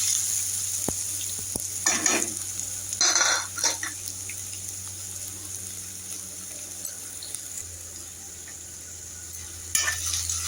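Potato pieces fry in a pan with mustard seeds and cumin as a steady sizzle, while a few scraping stirs come and go over about ten seconds, close and moderately loud with no talking.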